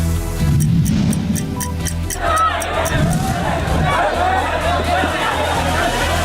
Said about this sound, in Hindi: आधी रात को भीड़ जुटी हुई, हो हल्ला, हंगामा हो रहा है, धक्का मुक्की हो रही है, नारेबाजी हो रही है